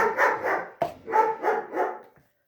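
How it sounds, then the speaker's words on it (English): Chow Chow puppies bark in a quick run of about six close, sharp yaps with a short pause partway, loud and alone before falling silent. "We have dogs. Can you tell? They're Chow Chow pups."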